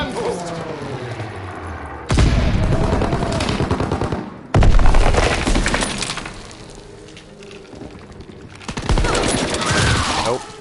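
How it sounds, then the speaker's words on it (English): PPSh submachine gun fire in Call of Duty: WWII multiplayer, dense loud bursts of rapid automatic shots in several long stretches, mixed with other gunfire and game effects, with voices talking over it. "That guy's using the PPSH."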